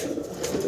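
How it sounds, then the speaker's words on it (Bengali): A single brief, low coo comes from a Banja pigeon, one of a pair, heard close and alone without any voices. "এক পেয়ার বানজা কবুতর"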